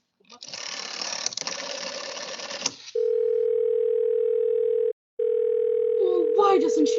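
In a radio drama, a telephone line crackles with mechanical clicking and rasping before a loud, steady dial tone hums, briefly cuts out, then resumes under a rising voice.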